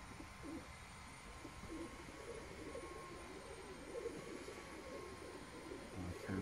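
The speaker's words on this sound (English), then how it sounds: "Pigeons, doves everywhere." Pigeons and doves cooing around a home where a pet monkey is kept, heard as soft, steady low coos layered over constant background hum and a faint aircraft-like drone.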